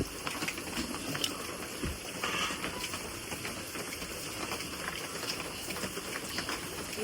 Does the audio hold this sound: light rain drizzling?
yes